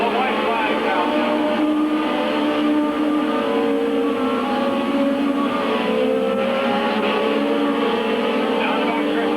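Race cars roar steadily around Midvale Speedway on the final laps of a 1997 feature, a loud continuous engine drone with shifting pitch as the pack passes, mixed with crowd and track noise.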